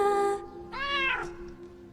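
A cat meows twice in the video game Crowns and Pawns, first a short call and then a longer rising meow, close and clear with no talk over it.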